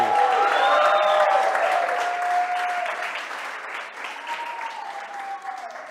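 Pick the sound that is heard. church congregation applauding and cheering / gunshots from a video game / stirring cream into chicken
church congregation applauding and cheering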